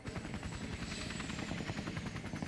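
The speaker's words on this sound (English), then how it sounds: "Helicopter ride to the nightclub." Helicopter in the Max Payne 3 video game, its rotor chop and engine whine steady and loud throughout, alone without talk.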